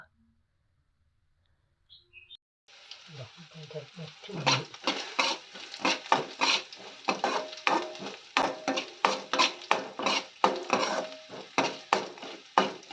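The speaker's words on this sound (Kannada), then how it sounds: "ಈಗ ಈರುಳ್ಳಿ ಹಾಕಿ ಈರುಳ್ಳಿ ಸಾಫ್ಟ್ ಆಗುವವರೆಗೂ ಹುರ್ಕೊಳ್ಳೋಣ." Onions fry in a pan with cumin, chana dal and urad dal, stirred in quick repeated scraping strokes over a crackling sizzle, starting after a near-silent moment with a faint chirp.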